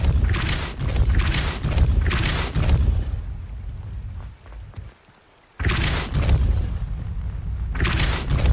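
Heavy magical blasts of the Depulso spell in the Hogwarts Legacy video game, loud booming bursts repeating in a steady rhythm, with a brief quieter gap before the blasts resume.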